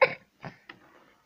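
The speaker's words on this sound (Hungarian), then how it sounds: "Én köhögtem." A person gives a few short coughs, a sharp first burst then two weaker ones, close and otherwise quiet.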